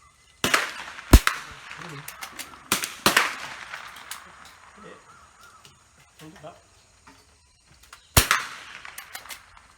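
.22 military trainer rifles fire at an outdoor shoot, with several sharp, loud cracks spaced irregularly, a close pair early on and another shot after a long gap, and quieter clatter and movement between them.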